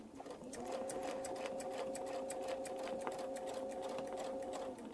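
A sewing machine stitches a quilt block along a template with a steady, even whirring hum that holds for several seconds, close and moderately quiet, with no talk over it.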